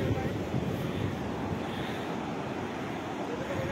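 Ocean waves washing onto a sandy beach in a steady, broadband surf wash with some wind buffeting the microphone, loud and continuous throughout.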